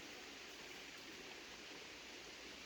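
Water flows close by on a Portuguese homestead, a steady, soft hiss of running water, constant and unbroken, with no voices.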